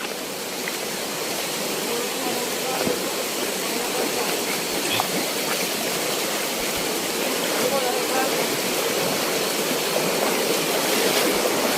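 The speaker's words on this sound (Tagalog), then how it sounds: "Lakas ng lakas ng agos ngayon." Strong river current rushing in a steady, loud broadband roar that fills the whole stretch, with faint voices now and then underneath.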